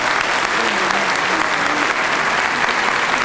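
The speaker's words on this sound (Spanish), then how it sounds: "Un aplauso para la doctora." Sustained, loud applause from an audience at a public accountants' day event, a thick continuous wall of clapping with a faint murmur of crowd voices underneath.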